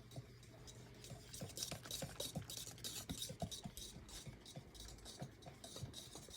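Cranberry cream cheese glaze being whisked with pink food coloring, a steady soft scraping and clicking of the whisk against the bowl, near and fairly quiet, with no voices.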